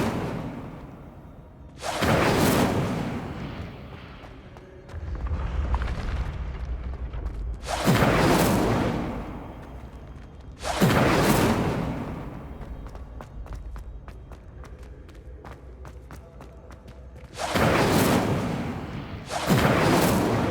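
Incendio fire spell blasts in the Hogwarts Legacy video game, several loud booming bursts of flame with whooshing attacks spaced a few seconds apart, ringing out alone with no talk.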